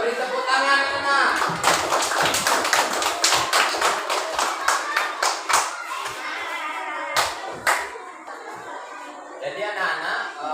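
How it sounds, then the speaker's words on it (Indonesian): Schoolchildren in a classroom clapping together, a quick burst of sharp rhythmic claps from many small hands that tapers into scattered claps, with children's voices chattering around it. "beri tepuk tangan anak"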